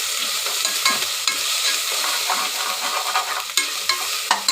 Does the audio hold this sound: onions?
yes